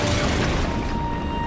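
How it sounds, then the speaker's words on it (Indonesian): A bomb explosion in a war film rolls on as a loud, dense, sustained rumbling blast with crackling debris, filling the whole stretch without any voices. "Hingga bom itu meledak dan menewaskan semua tentara di sana."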